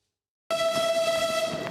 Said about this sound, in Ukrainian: До рівного прибуває евакуаційний потяг.